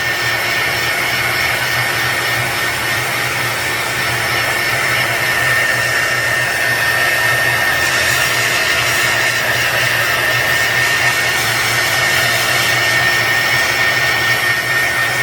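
A hair dryer blows steadily on a handmade craft, a loud, continuous whooshing roar that holds for about fifteen seconds, close up with no talking.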